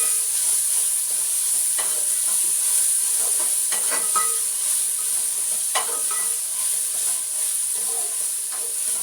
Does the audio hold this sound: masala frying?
yes